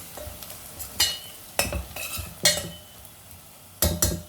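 Turmeric, coriander, red chili powder and salt are stirred together in a pan, with a faint background sizzle and five or six distinct scraping spatula strokes and metallic clinks spaced a beat apart.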